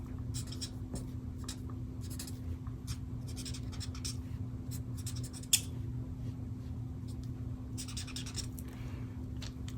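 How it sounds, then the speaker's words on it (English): A marker pen scratches and rubs in short, irregular strokes across paper while a flower is coloured, faint and close, with a low steady hum underneath. "I'm going to kind of go around the edges and kind of just draw that back in"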